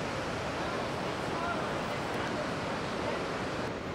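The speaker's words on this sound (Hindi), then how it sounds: "जो वाटरफॉल मैं इस वक्त देख रहा हूँ बहुत शानदार है" Kravice waterfall in Bosnia and Herzegovina roars as a steady, dense rush of falling water, loud and continuous throughout with no break, a broad wash of noise filling the whole scene.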